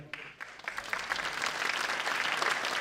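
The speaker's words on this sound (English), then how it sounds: "Give it a big round of applause." A crowd at the opening ceremony of the 67th Coupe Aéronautique Gordon Bennett gas balloon race at sunset breaks into a round of applause for a balloon's first flight, the clapping swelling steadily and filling the scene.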